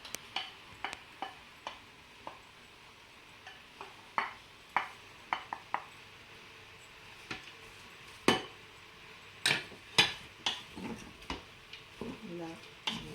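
A spoon stirs chopped onions in a Cookeo multicooker pot while cooking carbonnade flamande, giving irregular scraping clicks and taps against the pot at close range.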